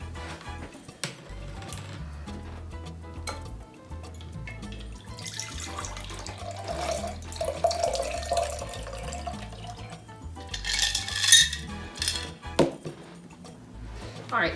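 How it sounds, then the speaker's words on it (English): Spicy mango margarita poured into a glass, a soft liquid trickle and splash with clinks, moderately close and intermittent, with no talk over it. "Now we're just gonna pour this over."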